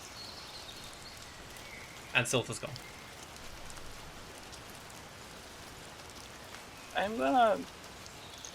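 Rain falls in Tales of Tyrasia as a steady soft hiss under two short bursts of talking, in pitch-black lowland woods.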